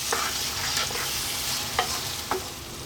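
Ethiopian minced meat stew fries in a pot over medium heat with a steady, close sizzle. A few faint scrapes of stirring break through it and nobody speaks.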